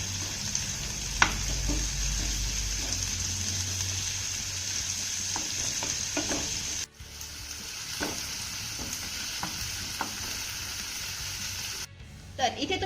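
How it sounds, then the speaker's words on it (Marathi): Thinly sliced onion sautés in hot oil with cumin, a continuous close sizzle broken by repeated spatula scrapes and clinks against the pan, with a brief cut in the middle. "आता हा कांदा आपल्याला छान असा मौसूद होईपर्यंत परतून घ्यायचा आहे"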